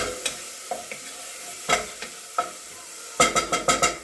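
Sausage cooking in a pan for a pasta sauce, with scattered sharp stirring clicks and scrapes over a faint background sizzle, ending in a quick run of rhythmic spatula strokes.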